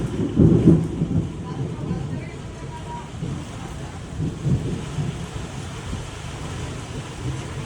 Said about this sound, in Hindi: आंधी तूफान अभी भी चल रहा है भाई, ये देखो।